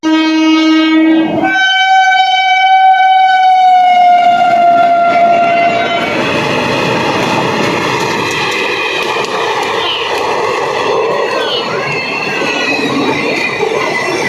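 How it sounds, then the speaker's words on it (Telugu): A passenger train moving slowly sounds a loud horn with short blasts, then wheels squeal and hiss steadily along the track, close and continuous, no talk. "ట్రైన్ చాలా స్లోగా అయితే వెళ్తుంది."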